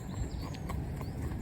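An older veteran horse trots while being trained to drive, its hooves giving a rapid, even clip-clop close by over a rumbling, noisy background.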